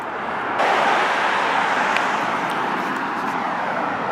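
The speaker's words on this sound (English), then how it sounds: "There's a lot of traffic behind me." Steady roar of road traffic close behind, a continuous loud wash of passing cars outside a fishing tackle shop, with no speech over it.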